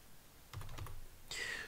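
Brief keyboard typing while setting up a computer operating system: a quick cluster of soft key taps, close and fairly quiet, ending in a short burst of brighter noise.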